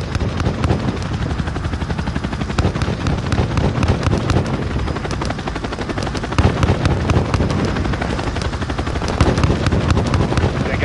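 Rapid machine-gun bursts and heavy gunfire crackle nonstop in a Call of Duty: Modern Warfare airfield battle, layered over a thick rotor-like rumble of helicopter or aircraft engines, loud and close throughout.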